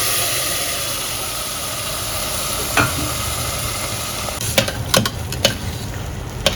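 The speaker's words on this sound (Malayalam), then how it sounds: "അപ്പോൾ അതും കൂടെ ഇട്ടിട്ടൊന്ന് ജസ്റ്റ് ഒന്ന് ഇളക്കി കൊടുക്കാം" Rice and moong dal stirred in a pan on the stove, a soft steady sizzle with a few sharp scraping clinks of the spoon against the pan toward the end.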